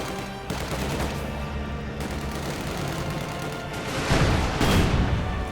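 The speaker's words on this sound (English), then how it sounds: "Panzer gun is firing away" Tank and gun fire from a Company of Heroes 2 battle with a firing Panzer, a dense run of rapid gunfire and heavy booms, with two louder blasts near the end.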